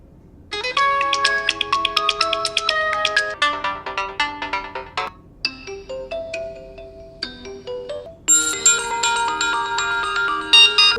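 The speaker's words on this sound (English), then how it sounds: "you also get new ringtones which are apparently inspired by human emotions" A Realme UI phone ringtone plays as a bright, melodic electronic chime with plucked, bell-like notes in repeating phrases, clear and close, with several short pauses and changes in pattern.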